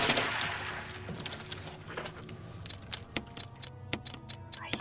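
Gunshots in the Resident Evil HD Remaster video game, heard as a scatter of faint, sharp cracks and clicks over a low, murky game ambience, irregularly spaced and fairly quiet.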